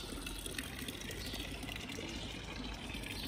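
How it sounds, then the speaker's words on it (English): Water from a famous fountain in a small Swiss lakeside village splashes and pours steadily, a constant close rushing wash with no break. "And these are the famous fountains"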